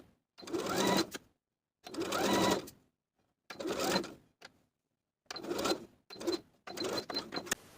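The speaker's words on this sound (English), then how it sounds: "Then we'll sew our elastic to that lining seam allowance straight across, stretching it to fit. I'm going to be using a wide zigzag stitch." A home sewing machine runs a wide zigzag stitch over elastic in several separate bursts of steady whirring, each lasting about a second with short pauses between, close and clear with no talking.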